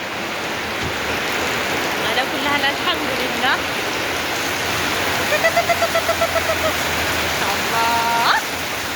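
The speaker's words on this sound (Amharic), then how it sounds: "እሁድዬን ብሎግ እንደው ዝናቡ ግን ይከብዳል።" Heavy rain pours steadily as a constant broadband wash throughout, with a person speaking briefly over it and a few faint chirping tones breaking through now and then.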